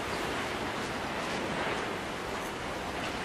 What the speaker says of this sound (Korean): 파도 소리 내는 거라고.